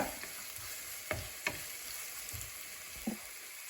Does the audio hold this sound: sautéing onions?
yes